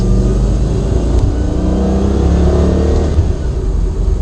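A Lamborghini Gallardo engine pulling away in first gear, a loud, close, steady low rumble that rises slightly as the car moves off.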